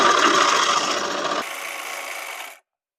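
A sewing machine runs a fast, steady stitch along a folded shirt hem, a close mechanical whir that drops to a lighter hum and then cuts off abruptly.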